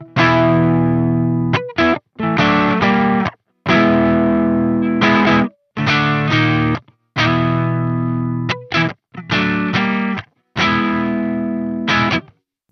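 Overdriven electric guitar through a Soldano SLO-100X amp, switching between overdrive channels: loud, distorted chords in roughly eight sustained bursts separated by short gaps, with no talking.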